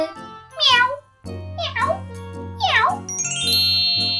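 Three drawn-out cat meows rise and fall over a soft background melody with tinkling chimes, close and clear.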